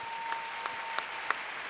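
A church congregation applauds and cheers for Jesus during a sermon, a steady wash of clapping at moderate volume with a few sharper claps popping out, and no voice over it.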